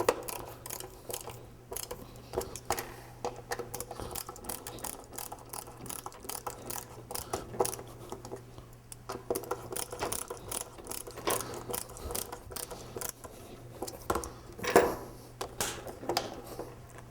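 Rapid clicking of a ratchet driver tightening the mounting screws of a snowboard binding with a 3D hole pattern, close and fairly quiet, in repeated bursts with short pauses between screws.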